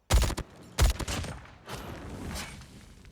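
An MG 42 elimination effect in a video game: two sharp, loud bursts of gunfire in quick succession, then a rougher rattling tail that fades over the following seconds.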